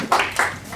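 Two quick hand claps, close and fairly soft, spaced about a quarter second apart.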